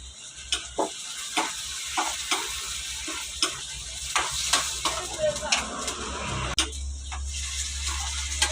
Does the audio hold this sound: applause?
no